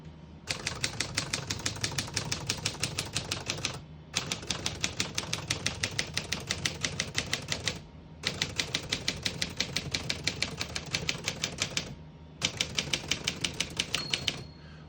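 Fast typing on a 1950 Smith-Corona Silent portable typewriter, crisp rapid keystrokes in long even runs broken by three brief pauses, close and clear with no talk.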